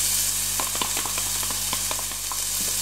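Chopped capsicum sizzles and crackles in a frying pan, with steady frying hiss and occasional stirring clicks close by.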